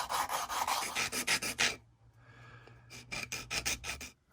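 Custom knife scales being hand sanded down toward the metal liner, rhythmic close rasping strokes in two bursts separated by a brief quieter pause, no talking.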